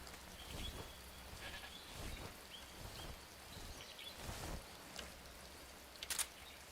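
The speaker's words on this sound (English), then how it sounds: "Goat." A goat in the Metal Gear Solid 3: Snake Eater video game bleats faintly amid low ambient jungle noise, with a short sharper burst near the end.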